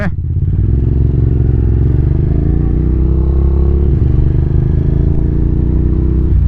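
Suzuki TL1000R big-bike V-twin engine running loud and close in a steady deep rumble, holding an even, throaty tone throughout with no voices over it.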